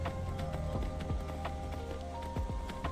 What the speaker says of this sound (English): We got ourselves a horse.